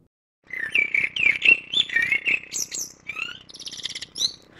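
Bird-like chirps and tweets reshaped by the Imprint Crystal algorithm of Zynaptiq Morph 3 Pro, a run of rapid bright warbling phrases that turn into glassy, shimmering tonal swirls, moderately loud and alone.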